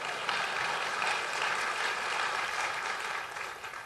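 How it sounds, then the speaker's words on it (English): Sustained audience applause at a political gathering, the Iowa Freedom Summit, where Governor Scott Walker is speaking; a dense, steady clapping from a large crowd that holds throughout and tapers slightly at the end, with no talk over it. "And if you can clap for that, that's all right."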